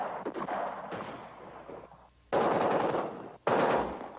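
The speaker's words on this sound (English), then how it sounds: "There's been a lot of shooting out the windows from inside" Machine-gun fire from the second-floor windows of a radio station during the 1968 Tet Offensive in the Vietnam War: two loud, sustained bursts of rapid shots, with scattered quieter reports before them.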